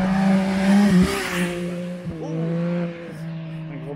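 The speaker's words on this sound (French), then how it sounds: "il y a un fou en moto" A motorcycle speeds along a narrow roadside by a hiking path in the Gorges du Verdon, its loud engine drone rising and shifting as it passes close by, and a voice gives a brief exclamation.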